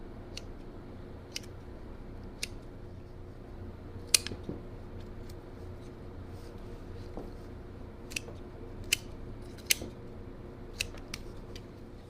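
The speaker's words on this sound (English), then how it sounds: "as I'm cutting these off, the roots" Scissors snip hydroponically grown ginger roots off the rhizome in a series of sharp, isolated clicks spaced a second or so apart, fairly faint over a steady low hum.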